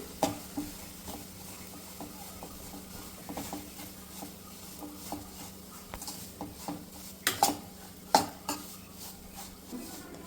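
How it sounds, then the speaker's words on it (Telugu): Semolina (rava) dry-roasting in a pan, stirred with a spoon: repeated light scrapes and taps against the pan, a few sharper clinks near the end, under a low constant background. "కొద్దిగా కలర్ మారే వరకు వేయించుకోవాలండి రవ్వను"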